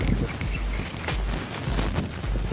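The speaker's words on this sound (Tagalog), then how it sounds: "lakas ng hangin guys." Strong wind roars and buffets steadily against the microphone in a farm field, a continuous low rumble with no clear voices.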